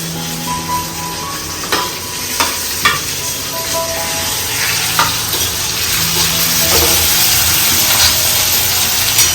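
Onion frying on an iron griddle for besan pitla, a steady close sizzle with occasional spatula scrapes and stirring clatters throughout.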